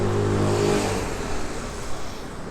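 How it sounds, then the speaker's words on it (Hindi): A loud motorbike engine roars close by and fades as it passes, leaving a rumbling wash of traffic noise. "यार ये बाइक गुजर जाए, बहुत शोर है।"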